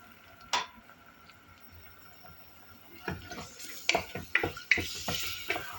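Meat being stirred with oil in a cooking pot for a şalgam stew: quiet at first, then a run of irregular scraping and clinking knocks from the utensil against the pot, close and fairly soft.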